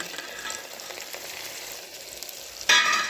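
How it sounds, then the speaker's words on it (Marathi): Tomatoes sizzle and fry in a pan as they are stirred, a steady close hiss with light scraping, and a brief louder burst of sizzling near the end. "टमाटर टाकलं की हलवून घ्या असं भाजू द्या चांगलं"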